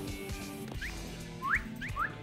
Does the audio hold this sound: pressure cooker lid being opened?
no